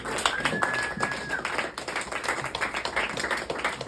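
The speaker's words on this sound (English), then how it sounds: "Start clapping right now for my good friend," An audience at a comedy show claps for comedian Zach Hunt, a close, dense patter of hands that stays steady throughout while a voice speaks over it.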